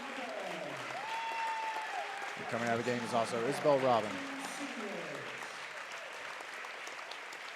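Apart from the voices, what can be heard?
parents giving standing ovation at basketball game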